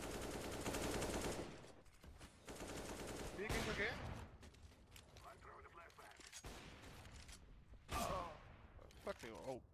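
Rapid gunfire bursts from the AWP sniper rifle in a Counter-Strike match on Cobblestone, loud, sharp reports repeating across the round with occasional mechanical clicks between shots.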